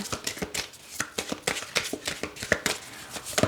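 Tarot cards being shuffled by hand in quick bursts of riffling and slapping, close and fairly loud, with no speech.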